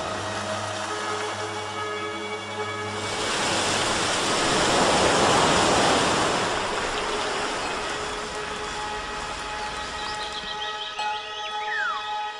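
Countless waterfalls rushing down, a broad continuous roar that swells louder in the middle and then eases, with no voices.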